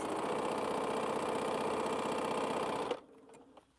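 A home sewing machine runs steadily in a fast, even whir for about three seconds, then stops abruptly, leaving faint clicks behind.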